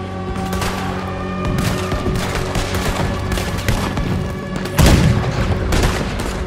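Cannon fire aimed at a boat during a Red Dead Redemption 2 naval battle, booming blasts layered over a dense game soundscape, with the heaviest, loudest blast hitting near the end.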